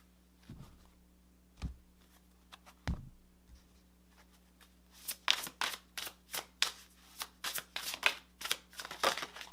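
Tarot cards being shuffled, a few sparse soft taps at first, then a rapid run of crisp riffling bursts close to the listener.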